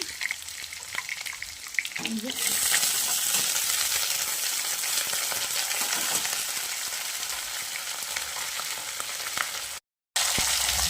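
Mixed vegetables with carrots and bay leaf fry in a pan for a Bengali niramish sabzi, a loud continuous sizzle rising sharply after a quieter start, with faint stirring scrapes and a brief cut near the end.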